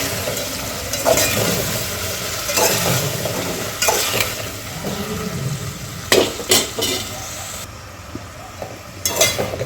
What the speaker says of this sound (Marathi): शेंगदाणे पण टाकू शकता याला परतून घेऊ आपण